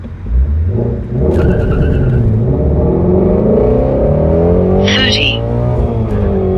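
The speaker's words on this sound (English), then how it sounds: "you guys will see a rev comparison between the Z06 and the GT350" A C8 Corvette Z06 and a Mustang GT350 rev and accelerate one after the other, loud engine roars rising and falling with a brief tire squeal, with voices talking over it.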